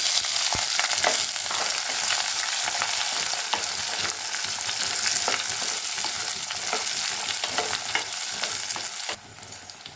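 Small shallots hiss and spit in hot oil with fenugreek and fennel seeds while a crab curry is being made, a loud close sizzle with stirring clatter throughout, dropping sharply quieter near the end.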